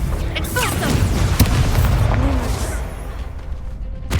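A fire spell explosion in the Hogwarts Legacy video game, with booming blasts and crackling magical whooshes layered over game sound effects, loud and close, with a voice calling out beneath the bursts.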